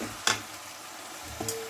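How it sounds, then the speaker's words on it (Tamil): Siru keerai spinach sautéing in a pan, with two brief clattering stirs of a spoon against the pan over a faint, steady sizzle, and a short ring near the end. "இப்போ கீரை போட்டுக்கலாம் ஃப்ரெண்ட்ஸ்"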